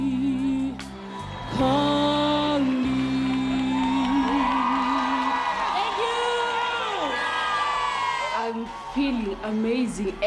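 An audience at a show cheers and screams, with high, rising and falling shrieks and a swelling crowd roar that is loud throughout and peaks near the middle, alongside voices.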